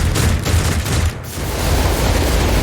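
Sentry turrets fire in a Warhammer 40k Rogue Trader battle, a dense, loud barrage of overlapping gunfire and booms that runs almost continuously, with one brief dip partway through.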